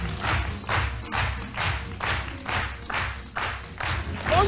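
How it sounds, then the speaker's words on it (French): Studio audience on a French TV talk show set applauding a guest as she is welcomed, a close, steady wash of clapping with rhythmic surges throughout, ending in a brief high flourish. "je vous demande d'applaudir très, très fort"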